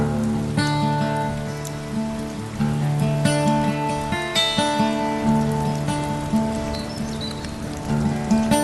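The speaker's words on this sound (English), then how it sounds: "It's raining" Rain falling on a February day, a dense steady patter of drops on hard surfaces with sharper individual plinks and drips close by, continuous throughout with no voices.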